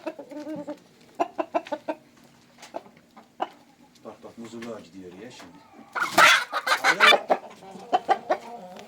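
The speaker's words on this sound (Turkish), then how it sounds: "Alın size horozu. Bir tane horoz çıktı." Chickens clucking and a rooster calling nearby, with a burst of agitated squawking partway through while a person talks over the birds.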